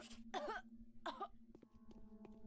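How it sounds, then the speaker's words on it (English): Two quick coughing bursts from a person in the first second, close and fairly loud, over a steady low hum, followed by faint background sounds. "Sorry for coughing on you."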